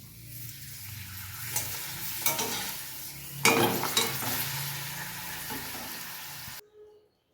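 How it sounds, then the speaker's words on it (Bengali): Papad frying in hot oil makes a loud, close, continuous sizzle with a few bursts of crackle and scraping, stopping abruptly near the end, with no speech. "পাঁপড়টাকে এবারে একটু ভেজে নেবো"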